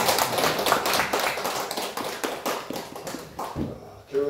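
A church congregation applauds to honour a long-serving married couple of deacons, a dense, steady patter of many hands clapping throughout that thins out near the end.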